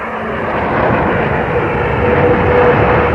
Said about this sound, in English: Over 600 planes were launched that night